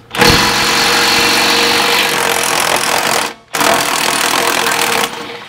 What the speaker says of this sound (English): bolt 2 with the 1/2-inch DeWalt impact